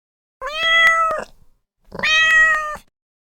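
A cat gives two clear, drawn-out meows, close and loud, separated by a short silence.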